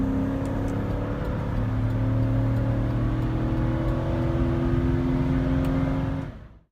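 A car fitted with a K&N air filter kit drones steadily as it accelerates up a highway on-ramp, its engine tone loud and continuous throughout before cutting off abruptly at the end.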